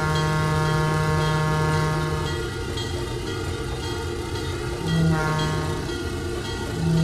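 A train in Trainz 2022 on the C&O Hinton route sounds a steady horn blast that cuts off, then returns in short bursts, over a continuous rumble of the passing locomotive and cars.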